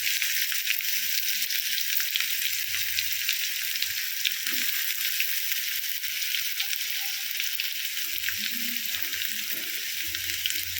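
Cumin, mustard seeds, chana dal, urad dal and onions fry in hot oil for a tempering, giving a steady, dense crackling sizzle close up with a few faint clinks and no talking.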